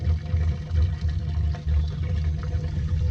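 Waste water draining from a motor home's holding tank into a hookup line, a steady low rushing gurgle of liquid flowing continuously and fairly loud throughout.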